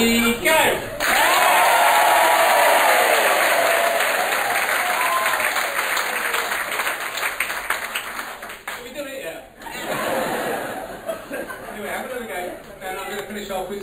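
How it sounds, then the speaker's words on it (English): Cinema audience at the Kinema in the Woods, gathered for a Compton theatre organ performance, claps and cheers loudly in a sustained burst with whoops and laughter. A voice speaks over it, and the applause fades and then swells again. "what you gotta do is clap and cheer as loud as you can"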